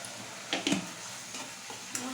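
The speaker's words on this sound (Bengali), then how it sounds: "আমি এখন রান্না করতেছি।" Lote (taro stolon) cooking in a pan, soft sizzling with a few scraping stirs and light clinks of the spoon, fairly quiet and close.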